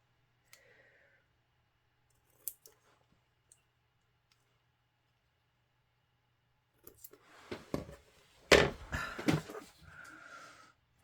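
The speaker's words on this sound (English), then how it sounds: "Let me just cut this a little bit smaller." Scissors cut paper for a papercraft project: a few isolated snips early on, then a quick cluster of crisp cutting clicks and rustling paper near the end, close and fairly quiet.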